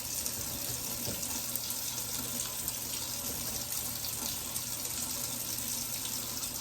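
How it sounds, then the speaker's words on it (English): Kitchen tap running steadily while hands are washed, a continuous fairly quiet hiss of flowing water with no talking. "I'm gonna wash my hands."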